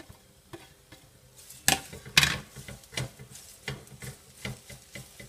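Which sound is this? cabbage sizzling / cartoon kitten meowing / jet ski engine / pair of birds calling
cabbage sizzling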